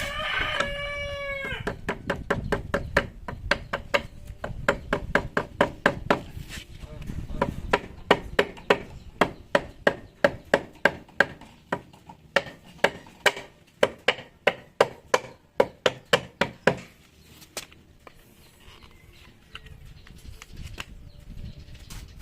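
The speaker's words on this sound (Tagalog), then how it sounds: "Kailangan mong gumamit ng rubber mallet." A rubber mallet repeatedly taps a bracket while a dual shock conversion kit is fitted, giving a long series of sharp, close knocks in quick bursts; a rooster crows at the start and a voice speaks now and then.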